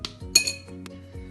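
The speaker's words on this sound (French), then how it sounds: "Et chaque morceau de chocolat va aller dans le récipient pour le micro-ondes." Pieces of broken chocolate bar dropped into a microwave-safe bowl, giving a few sharp clinks spaced across the moment, close and fairly quiet with no talking.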